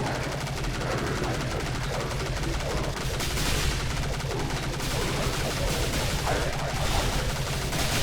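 Sustained machine gun fire in Dead Frontier in the Deep Wastelands, a continuous rapid rattle of shots lasting several seconds at steady loudness over a low background drone.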